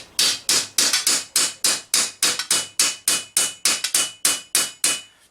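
A ball peen hammer strikes cold mild steel, shaping the ankle of a greave, in about twenty sharp, ringing blows at a steady, fairly quick rhythm, close and loud with no talk.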